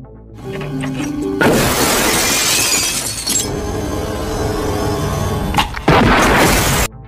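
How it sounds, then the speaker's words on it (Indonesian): A film shootout bursts into loud gunfire and shattering glass, with dense crashing bursts and booms close up, briefly easing before another loud volley. "Thomas yang masih berada di sana, langsung memberondong Jack CS, sehingga aksi baku tembak sengit tak dapat lagi dihindari"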